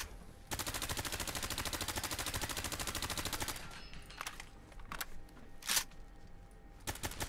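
Rapid automatic fire from a VSS / AS VAL rifle mod in Fallout 4: a long, steady, very fast string of suppressed shots for about three seconds, then a few scattered single cracks.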